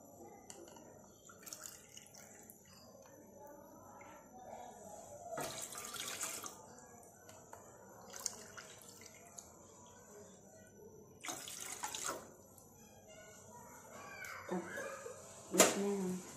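Three cups of water pour and splash in short bursts into a pot, with quieter clinks and handling noises between pours nearby.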